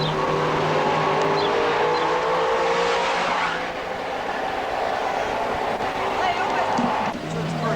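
Cars speed past on an Australian street in the 1980s, a loud, steady engine roar with rising and falling tones as vehicles pass close by, under some background talk.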